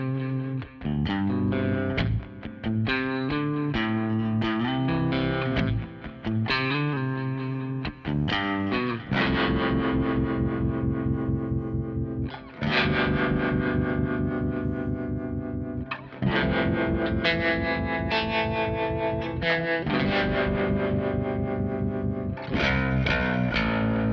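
Baritone guitar strummed chords run through a Kemper Profiler with effects, dense distorted and chorused tones sustaining loudly and steadily, with brief breaks between phrases and no speech.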